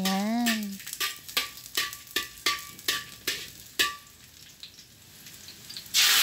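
Garlic and onion sizzle in a hot pan while a metal utensil scrapes and taps against the pan in a steady series of sharp clinks, about one each half second, over a soft frying hiss.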